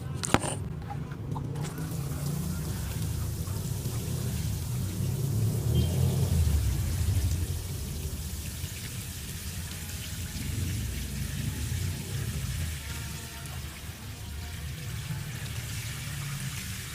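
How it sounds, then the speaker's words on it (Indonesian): Water is poured over a potted sapodilla seedling until the soil is soaked, a continuous low gushing and splashing with faint dripping that carries on steadily throughout. "Berikutnya kita akan siram sampai jenuh air."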